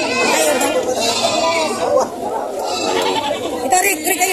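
Goats bleat among a crowd at a livestock market in Padre Garcia, Batangas, with repeated calls rising over constant nearby chatter and people talking throughout.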